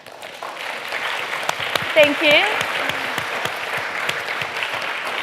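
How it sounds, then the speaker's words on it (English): Warm applause from the audience at a China-UK technology summit panel, scattered claps building into steady clapping while someone briefly speaks over it. "let's give them a round of warm applause"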